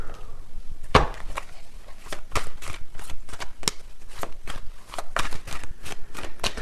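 A deck of tarot cards is shuffled close up in quick repeated riffles and slaps, sharp papery clicks and snaps arriving in an uneven rhythm, with no talking.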